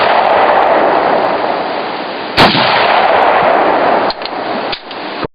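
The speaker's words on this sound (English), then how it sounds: "That's a nice loud gun." Loud gunshots ring out from a gun fired at a tree on a mountain camping trip, one sharp blast with heavy reverberating noise filling the clip, followed by a couple of smaller bangs near the end.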